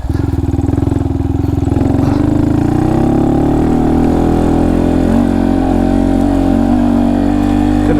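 A Honda Monkey motorcycle on Shinko Mobber knobby tires rides off-road, its small single-cylinder engine droning loud and close with a steady buzzing note that rises slightly as it accelerates.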